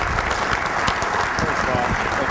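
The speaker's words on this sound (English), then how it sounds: "Give him a round of applause." A room full of people applauds football coach Mike Solari at a coaching clinic, loud, dense and continuous clapping from start to finish with a faint murmur of crowd voices beneath.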